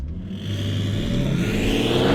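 A BMW E92 330d diesel's engine revs up hard as the car accelerates with the gearbox in sport mode, a steady rising drone from inside the car, growing louder; no voices.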